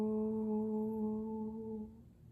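A voice imitates a whale with a long, steady, hum-like moan that holds one pitch for about two seconds and then fades out, soft and close, during a baby development class.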